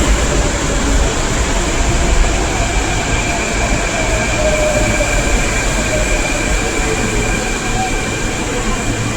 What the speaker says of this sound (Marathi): आता ट्रेन आली ही ट्रेन पकडायचे कुर्ल्याला उतरायचं